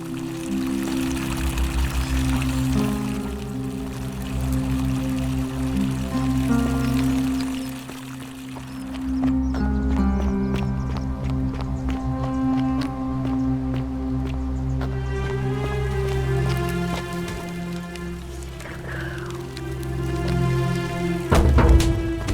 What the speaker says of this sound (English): Fountain producing fresh water, but where could the water be coming from?